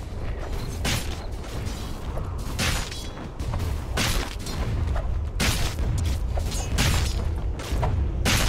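Battle sounds from a Dota 2 match as the Dire top tower comes under attack: a dense, loud, continuous mix of booming impacts, clanking mechanisms and bursts of spell and weapon hits, with no talking.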